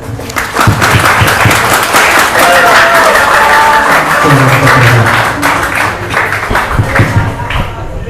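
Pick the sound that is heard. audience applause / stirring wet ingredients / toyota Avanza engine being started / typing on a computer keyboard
audience applause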